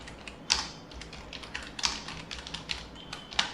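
Typing on a computer keyboard while entering text into a file in a Linux terminal, heard as a steady run of close, sharp key clicks with a few louder taps standing out, and no talking.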